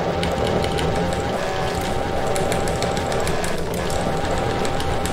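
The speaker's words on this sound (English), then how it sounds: "Chainsaw behavior." A video-game chainsaw buzzes in a continuous rapid rattling drone, loud and close, running steadily throughout.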